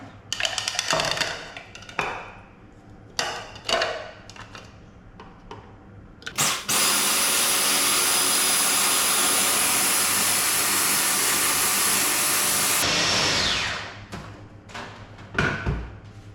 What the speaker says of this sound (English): I'm going to put those straight into the blender and get those mushed up